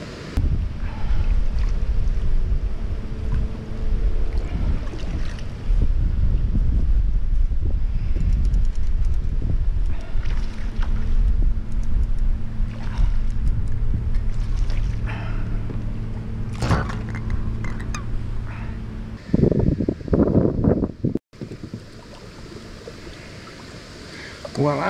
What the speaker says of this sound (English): You can see the wind blowing me away.